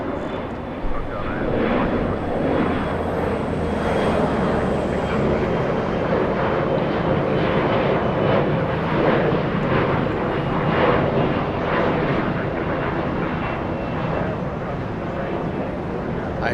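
An airliner landing and braking at Los Angeles International Airport, giving off a loud, steady broadband roar that holds for the whole stretch with only slight swells.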